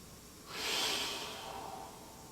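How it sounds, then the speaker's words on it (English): A person takes a deep breath during a back and hip mobility stretch, one long, close, breathy inhale-exhale rising and then easing off in a quiet room. "2 more deep breaths here."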